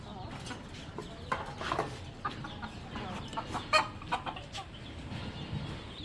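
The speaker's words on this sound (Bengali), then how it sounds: "এই দেখেন এখানে আরও মুরগি আছে।" Hens cluck repeatedly at a moderate distance, short irregular calls over a steady farmyard background hum.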